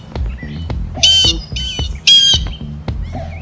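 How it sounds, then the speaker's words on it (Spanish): Strange birds squawk in repeated loud, harsh bursts with shrill chirps between them, close by, set against a low background rumble. "Aquí hay unos pájaros muy extraños."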